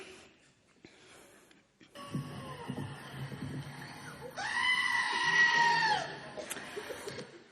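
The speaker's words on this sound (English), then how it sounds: "now you know, that's a sheep, not a goat" A sheep bleats loudly in a strained, human-like yell, rising and wavering for a couple of seconds, played back through speakers after a quieter stretch with a faint earlier bleat.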